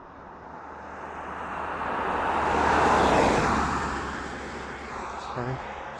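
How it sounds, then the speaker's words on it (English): A car passes by, its rushing noise swelling to a peak at mid-clip and then fading, with wind noise on the microphone throughout. "Sorry, some cars coming through."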